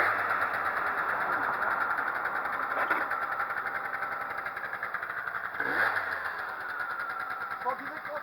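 A Peugeot Speedfight 3 scooter engine runs nearby at a steady idle, with a couple of brief throttle blips, while people talk over it.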